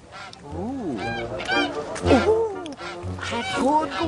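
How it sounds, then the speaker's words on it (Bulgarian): Several geese honk loudly and repeatedly at close range, overlapping one another, with a person talking among them. "Гъси, гъси, гъси. Добра гъска."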